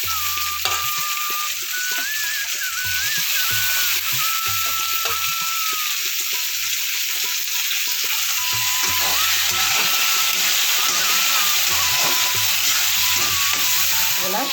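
Onion and tomato sauté in a pan for a bottle gourd curry, a steady bright sizzle with occasional stirring scrapes, close and continuous throughout.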